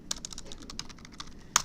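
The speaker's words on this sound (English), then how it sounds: "hit C on the keyboard" Quick, steady keystrokes rattle on a computer keyboard in a short, close burst of typing with a sharper tap near the end, and no voices.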